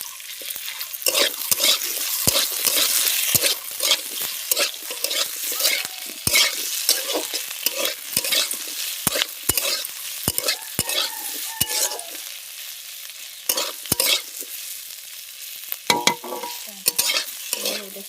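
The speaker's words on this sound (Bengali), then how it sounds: "এটা একটু ভেজে নেব ভালো করে।" Ginger paste sizzles in hot oil in a pan, with a spatula scraping and stirring in frequent sharp strokes over a steady frying hiss.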